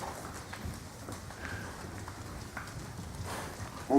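Horses' hooves clip-clop at a slow, uneven pace during a riding lesson, faint and somewhat distant under a hazy background, with no talk in the gaps.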